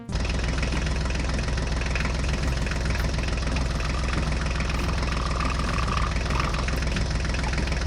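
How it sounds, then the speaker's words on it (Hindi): A toy mini tractor's small motor drives along steadily, its continuous dense mechanical hum and rattle loud and close throughout, with no talking. "हमारे मिनी ट्रैक्टर तो मिट्टी लेकर जा रहे थे"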